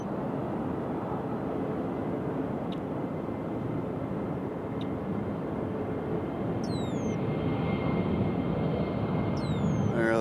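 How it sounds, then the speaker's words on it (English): A JetBlue airliner arriving from Boston lands on runway 2 right at Nashville International Airport, its engines a steady distant broadband roar, with a few chirping birdcalls over it. "This is JetBlue coming in from Boston, Massachusetts."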